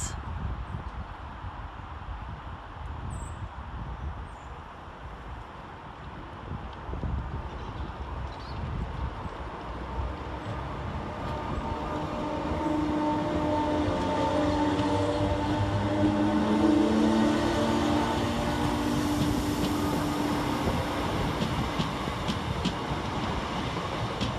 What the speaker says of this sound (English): Going in the opposite direction 4 minutes late is 319370, working the 1309 Northern service of Blackpool North to Liverpool Lime Street.